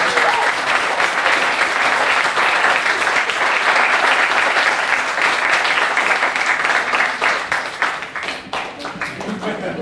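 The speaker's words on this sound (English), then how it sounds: "So I think we should give her a great round of applause" A symposium crowd breaks into loud, sustained applause, dense clapping from many hands that carries on for nearly ten seconds and thins slightly toward the end.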